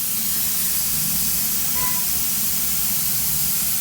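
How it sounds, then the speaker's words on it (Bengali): Gas leaks from an open, uncovered manhole in the middle of a main road: a loud, steady broadband hiss rushing upward without a break. "এখান থেকে গ্যাস লিক করতেছে"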